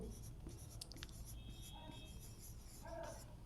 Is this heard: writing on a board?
yes